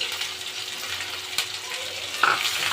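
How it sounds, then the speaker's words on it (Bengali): Chopped onion and garlic fry with dried chilli in hot oil in a pan, a continuous close sizzle with one brief clink of a stirring utensil near the end and no talk. "পেঁয়াজ রসুনটা নেড়ে করে একটু ব্রাউন কালার করে নেব"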